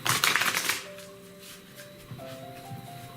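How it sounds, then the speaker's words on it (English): A deck of energy oracle cards shuffled by hand, a brief loud burst of riffling flutters up front, then faint soft card handling and light taps in a quiet room. "I'm just gonna shuffle up our first deck that we're gonna begin with"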